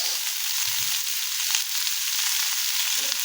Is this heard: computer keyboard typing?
no